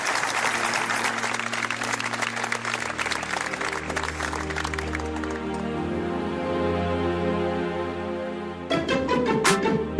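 A studio audience applauds the guest on a Spanish radio program, dense clapping for about three seconds that gives way to a sustained musical tone, then a brief new sound at the end.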